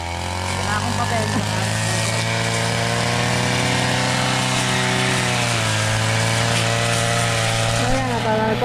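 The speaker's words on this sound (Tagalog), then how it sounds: "nagpa-practice mag-grass cutter" A gas-powered grass cutter runs steadily at high revs with a loud, even engine drone that holds throughout, nearby and with no pauses.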